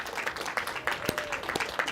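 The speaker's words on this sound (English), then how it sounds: "If we can give him a warm applause for Andrew." A modest audience gives a warm round of applause for photographer Andrew Scrivani, scattered close claps with distinct individual hand strikes ticking irregularly at moderate volume.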